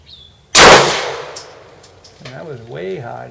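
A single loud HK P30L pistol shot at a target, a sharp crack and ringing decay that stands alone, followed by a voice talking.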